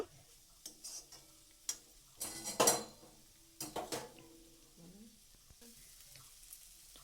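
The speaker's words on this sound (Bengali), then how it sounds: "সুন্দর করে সব কিছু একসাথে একটু তেলের মধ্যে নাড়াচাড়া করে নেব" Chopped tomato and other vegetables are stirred in hot oil in a pan, with a low sizzle beneath scattered clanks and scrapes of a utensil against the pan, quiet and close.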